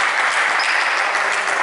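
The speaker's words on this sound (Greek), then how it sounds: "Οι παίχτες χειροκροτούν" Steady applause at a basketball game as the players clap after a win, a continuous dense wash of clapping throughout the short moment.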